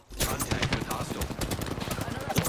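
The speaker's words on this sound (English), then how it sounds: "They're shooting at me. Opening fire on the enemy." Rapid bursts of automatic gunfire from the Apex Legends video game crackle steadily through the whole stretch, loud and close, with a voice talking underneath.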